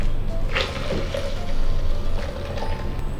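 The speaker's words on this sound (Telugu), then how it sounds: "నేను ఈ గ్లాస్తో వాటర్ పోసుకుంటున్నాను." Water is poured from a glass into a blender jar holding curd, salt and ice for jeera buttermilk, a brief close splashing trickle over low kitchen noise.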